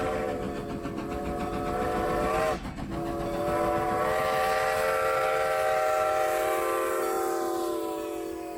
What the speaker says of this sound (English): Strasburg 90 is a two-tin decapod built in 1924 by the Baldwin Locomotive Works